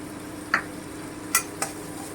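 Green chili paste frying in a pan, a soft steady sizzle with three quick scraping stirs of a spatula against the metal, close and fairly quiet, with no voices.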